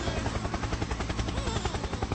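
A helicopter's rotor chops in a rapid, steady, loud beat across the whole short stretch, close and unbroken, with no talk over it.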